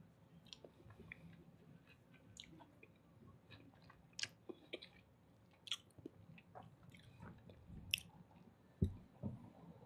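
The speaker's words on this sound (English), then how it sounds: "I'm chewing all in the mic. I'm just getting some cherries in." Cherries are chewed right against a microphone, giving close, wet, squishy bites and smacking sounds in an irregular rhythm, with soft clicks and a louder crunch near the end.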